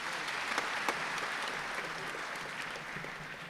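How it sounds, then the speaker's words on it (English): Audience applause at a 2023 health sector event, a steady wash of clapping from a crowd that holds at an even level from start to finish, with a few sharper individual claps standing out. "please give a round of applause to the very ministry and the World Bank"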